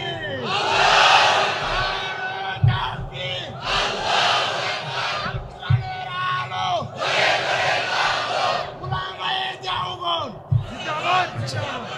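A large crowd shouts a takbir chant in unison at a religious gathering, loud, massed voices rising in repeated bursts that fill the space, with a single leader's voice calling out between the responses.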